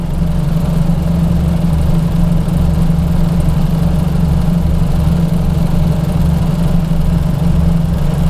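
A 1952 ZiS MMZ-585 truck's inline-six engine idling after two years standing, a steady low rumbling burble with an even pulsing rhythm, close and alone.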